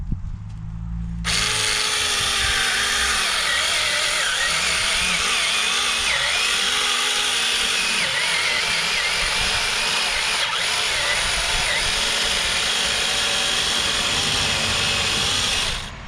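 A chainsaw carves into a pumpkin, its engine roaring steadily and loudly for about fifteen seconds after a brief quiet start, with the pitch wavering as the blade bites into the flesh.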